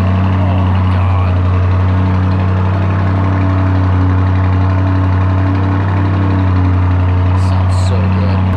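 Lamborghini SUV engine with Italian exhaust running at a steady, deep idle. The rumble is loud and close, holds constant throughout, and ends with a few brief sharper sounds.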